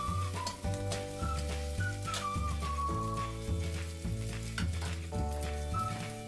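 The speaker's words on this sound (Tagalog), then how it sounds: "So, haluin na po natin ito ng dahan-dahan para hindi po siya madurog." Shredded smoked galunggong fish is stirred slowly in a pan while it sizzles steadily, with a constant hum and tonal background sounds underneath and no speech.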